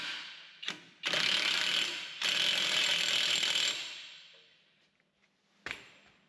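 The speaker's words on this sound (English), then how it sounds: "So it's a 36mm nut. I'm going to untighten my impact driver here." Impact driver hammering on a 36mm axle nut during a suspension drop kit install, two loud sustained bursts of rattling impacts, each a second or more long, with a short blip before and a brief hit at the end.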